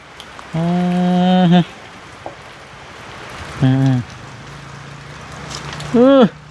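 Rain falls in a soft, steady hiss in the background while a voice calls out in three short, drawn-out bursts over it.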